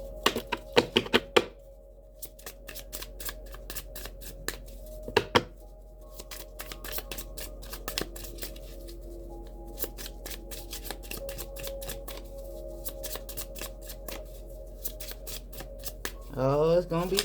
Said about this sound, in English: Spirit shuffling them up real good.